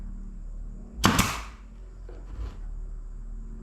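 A nail gun fires once or twice into fence picket wood while a birdhouse is being built, a sharp close crack followed later by a fainter knock.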